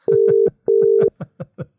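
A UK-style telephone ringback tone on an outgoing call, two pairs of loud steady double rings, close and clean, followed by a few short clicks.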